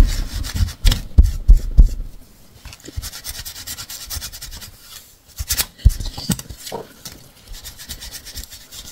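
A scrapbooking stencil is rubbed clean in quick bursts of scratchy, close friction, with uneven pauses between the strokes and a few sharper knocks.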